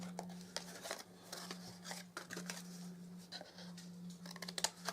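Scissors snip away small paper squares from the ends of a handmade embossed gift box, a run of close, crisp cuts and rustles over a low steady hum.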